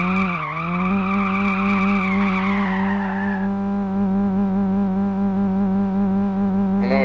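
Car tires squeal in a long sustained skid while a car reverse drifts in a car crash simulator video game, with a loud engine whine that bends in pitch and then holds steady.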